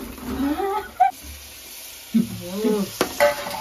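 Fish pieces sizzle and hiss in a hot pan for a Telugu-style bommidayilu fish stew while being stirred, with scraping bursts of mixing; a voice speaks briefly over the cooking noise.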